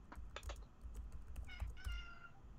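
A pet cat lets out a couple of drawn-out meows in a room, fairly quiet and distant-sounding, mixed with light keyboard-like tapping and a low background rumble.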